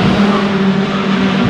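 A Ginetta race car passes at Oulton Park during a BTCC support race, its engine a loud, steady, buzzing drone close to the track with little change in pitch over the short pass.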